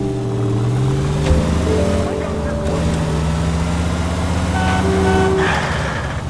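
Car driven fast in L.A. Noire, a steady engine drone with shifting tones and brief horn-like honks, loud and continuous, with a voice speaking faintly over it.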